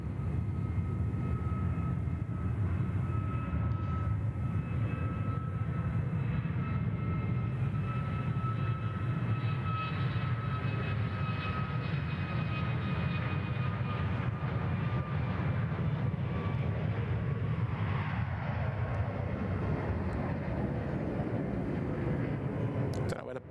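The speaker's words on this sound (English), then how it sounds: "Look at that beautiful Qantas 2 coming in from London." Qantas jet airliner arriving from London at Sydney Airport, a steady broad engine roar heard from a distance with a faint whine, sustained throughout under outdoor ambience.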